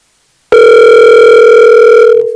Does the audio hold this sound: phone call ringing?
yes